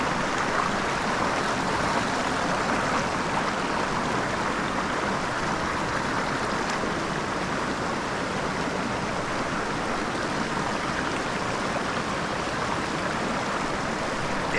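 A small mountain creek holding Bonneville cutthroat trout flows steadily, a continuous soft rush of water at low volume with no voices.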